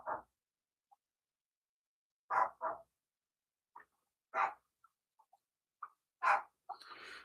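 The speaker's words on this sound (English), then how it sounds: "I don't know why she's barking like crazy." A dog barking from another room during a morning livestream, sharp separate barks in irregular bursts of one or two, muffled and fairly faint, with silence between them.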